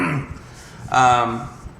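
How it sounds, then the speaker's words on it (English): A single short throat clearing, close and fairly loud, with no talking around it. "I had to clear my throat."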